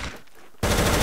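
Video game gun firing a rapid, loud burst of shots that starts suddenly after a brief quieter moment and carries on to the end.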